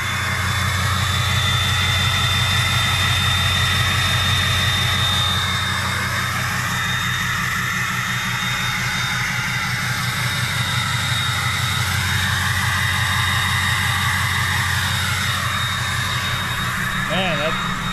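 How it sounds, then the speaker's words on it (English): A deep, steady exhaust drone from a 6.0 Powerstroke diesel truck at idle, with a rhythmic low-end pulse, continuous and close throughout. "Take one last listen to that exhaust."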